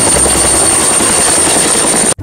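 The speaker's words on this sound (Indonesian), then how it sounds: "helikopter." A toy helicopter sound effect plays as a loud, continuous whirring rotor drone with a steady high-pitched whine on top, running without a break and cutting off abruptly at the end.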